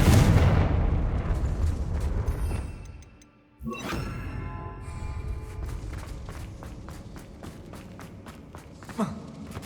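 Spell blasts from Hogwarts Legacy, the Bombarda and Confringo explosion spells, set off loud booming detonations with rumbling decay, then a quieter stretch of sharp impacts and footsteps.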